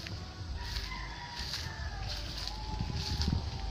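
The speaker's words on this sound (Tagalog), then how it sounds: "May manok pala dito guys." A rooster crows from a short distance near an old pig pen, its drawn-out call rising over steady background noise and faint voices.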